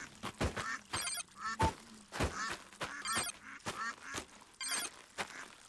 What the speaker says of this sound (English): All these ducks, yo.